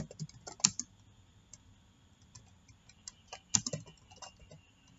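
Keys clatter on a computer keyboard as an axis title is typed in Microsoft Excel 2007: quiet, close, irregular taps with two louder, sharper key strikes, and no voices.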